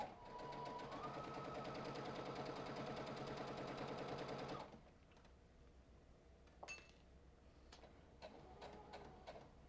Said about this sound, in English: So now I'm going to sew all the way to the other end.